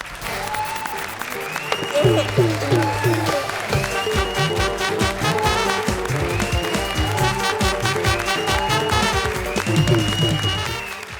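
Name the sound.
audience applause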